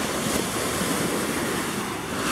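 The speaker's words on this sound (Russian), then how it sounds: "Сегодня почему-то волны с утра" Sea waves break and wash along the Philippines coast near a boat landing, a continuous, fairly loud roar of surf mixed with wind noise on the microphone.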